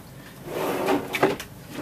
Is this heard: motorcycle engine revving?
no